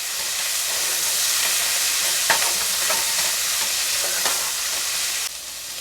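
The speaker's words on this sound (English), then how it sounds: "Now we're going to mix it around," Steak dinner sizzles loudly in a hot pan with a constant bright hiss, while a utensil stirs through it in scraping strokes until the sizzle drops away near the end.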